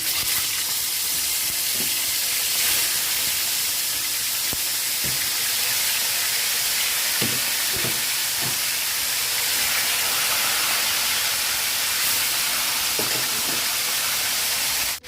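Meat sizzles loudly in hot oil for a couscous de mil dish, a dense, steady hiss and spatter filling the whole span, with occasional utensil knocks and no talking.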